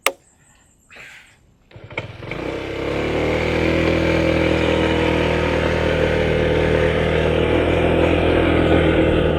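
A Honda ADV 160 scooter starts from a quiet pause with a few knocks, then its engine rises to a steady, loud, close drone that holds throughout the ride.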